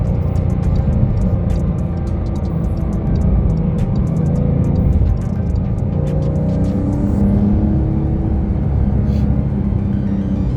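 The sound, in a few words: Porsche 911 Carrera T sport exhaust while driving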